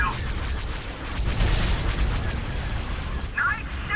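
Artillery fire and explosions in a Star Wars video game, deep rumbling booms rolling under one another, with a brief radio-like voice near the end.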